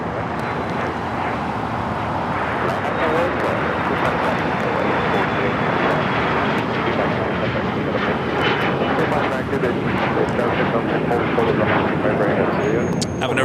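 A jet airplane taking off from runway 25 right at LAX, a loud, steady engine roar that holds throughout, with faint voices underneath.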